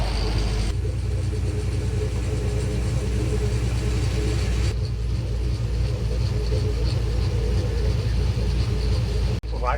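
Vehicle engine straining on an uphill climb near an orange orchard and forest area, a steady loud low rumble that holds throughout and cuts off abruptly near the end, with its tone changing partway through.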